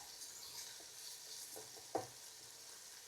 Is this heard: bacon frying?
yes